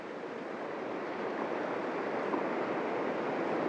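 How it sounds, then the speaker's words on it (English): Steady broadband wash of ocean surf on Traigh Bheag beach, Isle of Harris, with waves running out and rolling back in; a continuous, fairly loud roar of water with no voices. "waiting for the waves to go out and trying to time it with a wave coming in"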